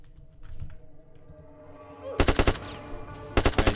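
A Thompson Tommy gun fires in a Roblox video game, two quick bursts of about four sharp rapid shots each, loud and close, following a quieter stretch of clicks and rumble.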